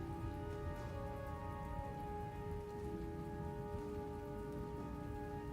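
Steady rain falls on a surface as a continuous, even hiss with a faint tonal hum underneath, alone and without talk, used as ambience in a tabletop role-playing session.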